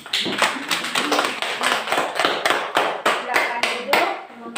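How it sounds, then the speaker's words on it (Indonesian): A classroom of students claps in a steady rhythmic pattern of sharp, close hand claps lasting several seconds. "Tepuk tangan dulu untuk mereka 4."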